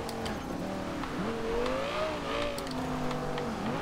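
A 2013 Audi R8 in Forza Horizon 2 drives with a steady, rising and falling engine note as it shifts through gears, with faint tire noise underneath.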